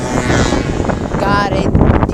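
Strong wind buffets the microphone in a loud, continuous roar, rushing and gusting throughout with a brief whistling flutter partway through.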